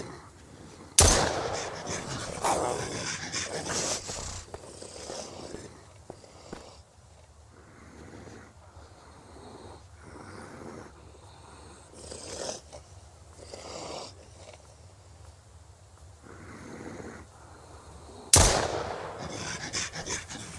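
Pistol shots in the survival game Mist Survival, two sharp loud broadband cracks near the start and end, separated by a stretch of quieter rhythmic ambient noise in between.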